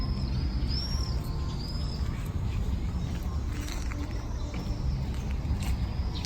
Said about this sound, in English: Have lots of birds in the morning.